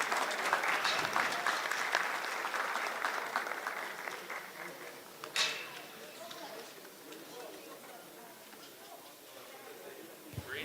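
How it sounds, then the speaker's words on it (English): An audience at a county steer show gives two young competitors a round of applause, steady and fairly close at first, then fading as a few voices and scattered claps carry on. "Let's go ahead and give these two young ladies a big round of applause."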